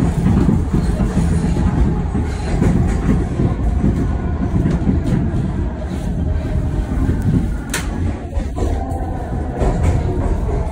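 Philadelphia subway train on the Broad Street and Market Frankford Lines rumbles steadily from inside a moving car, with a constant low roar and faint rail clicks throughout.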